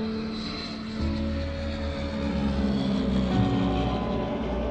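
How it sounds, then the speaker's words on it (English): A small propeller plane powers up and takes off amid Alaskan mountains, a loud steady engine drone that swells after the first second and stays strong and close throughout, with no voices. "One of the great experiences on these trips is when that plane takes off."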